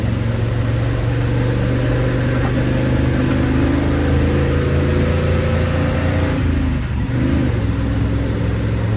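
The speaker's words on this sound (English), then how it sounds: "It's fun pounding gears with it." A 1967 Chevrolet C30 truck engine runs loud and close throughout, droning steadily as it accelerates. The pitch eases down and climbs again during a gear change near the end, with no talk over the engine.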